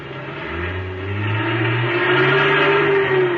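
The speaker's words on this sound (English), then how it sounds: "the truck roared up and started pulling itself loose from the wrecked car" A big semi-trailer truck's engine roars and rises in pitch as it pulls loose from a wrecked sedan, a 1950 radio drama sound effect, loud and steady with no voices.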